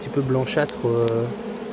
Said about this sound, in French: Elles battent des ailes et diffusent des phéromones de ralliement.